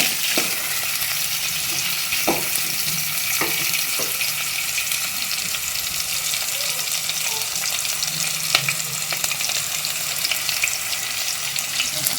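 Chicken (juttu kodi, a country hen) is mixed and fried in very hot oil with onion, producing a steady, loud, close sizzle with occasional stirring clicks throughout, no voices.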